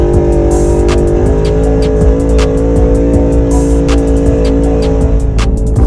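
A group of UTVs heading from Aylesford to Round Lake Pit on a Good Friday mud run, with a loud engine running hard and pulling steadily as the machine speeds up on an open trail, close and continuous with no talk.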